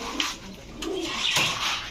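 Large giribaj racing pigeons in a shop make soft, low cooing close by, with a faint clink in the background.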